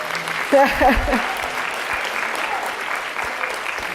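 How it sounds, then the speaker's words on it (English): A conference audience at a Stanford data science event claps steadily, a moderate, even wash of applause under a voice that speaks briefly at the start. "So please, a big round of applause for those two amazing women."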